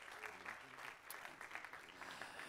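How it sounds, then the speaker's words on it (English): Audience applause at a church conference session, a fairly faint, steady patter of clapping lasting a couple of seconds, with a trace of voices in the room. "round of applause for that"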